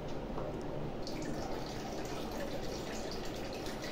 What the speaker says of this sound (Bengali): মেয়ে কুলারে জল দিয়ে নিচ্ছে।